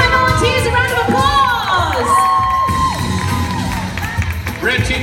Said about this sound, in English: Give my volunteers a round of applause.